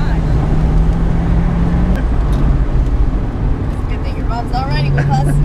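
Steady road noise from a Mercedes C43 AMG converted into a ute, heard from inside while driving, a constant rumble with faint voices rising near the end.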